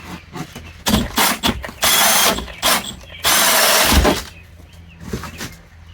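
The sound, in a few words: drilling wood with a hole saw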